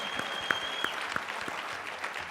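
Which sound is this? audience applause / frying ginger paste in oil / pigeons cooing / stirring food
audience applause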